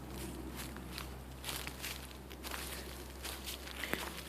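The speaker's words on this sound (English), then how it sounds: "Aside from the sound of my footsteps." Footsteps crunch steadily along a forest trail in Winter Springs, Florida, at an even walking rhythm, close and fairly quiet against a low background hum.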